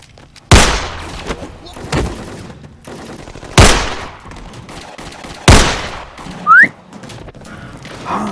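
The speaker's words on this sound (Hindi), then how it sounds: "सच में यहाँ गोलियां चल रही हैं" Gunfire in a film scene, three sharp, loud shots spaced a couple of seconds apart with echoing tails, a brief whistle rising between them, and murmured voices underneath.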